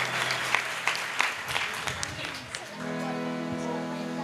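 Audience applause for a young boy singer at a live Marathi folk song performance, a dense burst of clapping that fades as harmonium-like music and singing take over.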